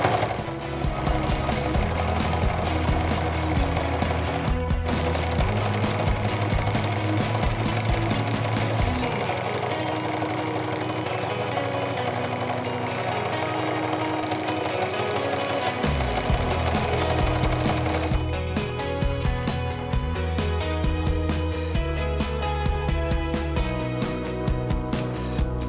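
Close, continuous sewing machine stitching on a jelly roll rug, a rapid mechanical hum that shifts in speed and pitch several times, with a brief pause near the start and a more rattling tone toward the end.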